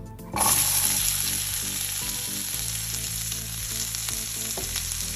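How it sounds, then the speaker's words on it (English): Vegetables hit hot oil in a pan with a sudden loud burst of sizzling that settles into a steady, close crackling fry, broken by a few clinks of a utensil. "Now I'm about to add some oil on the pan to saute my vegetable. I'm about to add the vegetable on the oil."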